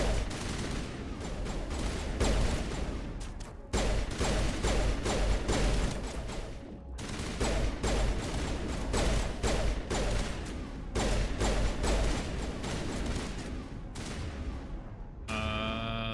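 Dense, continuous gunfire in a video-game fight against an enemy, loud and sustained in several long bursts with brief pauses between them, ending in a short different effect.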